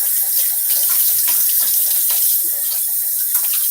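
Tap water gushes steadily from a faucet into a sink for rinsing during a wet shave, a continuous close splashing stream with no talking.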